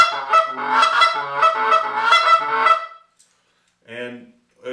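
Goose call blown by hand to imitate two or three different geese, quick honking clucks at higher and lower pitches in a rapid rhythmic run, then a pause and a short final burst, loud and close.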